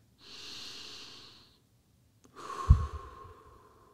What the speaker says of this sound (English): Even now, I want you to take a deep breath.